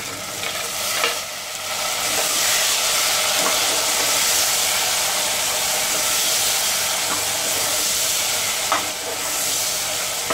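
Chopped tomatoes hitting hot onions in a pan with star anise: a steady, loud sizzle and frying hiss with occasional stirring clinks, continuing evenly without talk.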